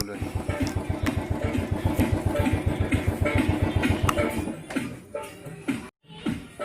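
A motorcycle idles with a steady, rapid putter that holds for several seconds near a warehouse, then drops off into quieter shuffling and a brief silence.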